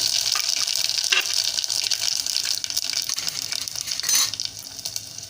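Cumin and mustard seeds go into hot oil in a pan for tempering, giving a close, steady sizzle and crackle with a brief louder burst of spitting near the end.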